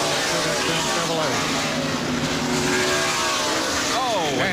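Stock cars race at the 1992 Save Mart Supermarkets 300k, including a Chevrolet, with loud engines revving and sweeping past, rising and falling in pitch as they pass, under commentators talking.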